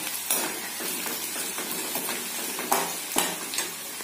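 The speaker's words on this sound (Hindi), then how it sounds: "प्याज को हल्का गोल्डन ब्राउन होने तक हमें इसे रोस्ट करना है ताकि इसका फ्लेवर अच्छे तरीके से ऑयल में आ जाए" Onions, garlic and green chili frying in oil for a desi-style baigan chutney, giving a continuous close sizzle with a few sharp clinks of a utensil stirring the pan.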